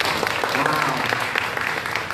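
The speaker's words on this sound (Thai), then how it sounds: "ก่อนอื่นปรบมือหน่อยได้" A packed audience at a Royal Enfield third-anniversary celebration in Thailand bursts into steady, dense applause that fills the whole stretch without a break.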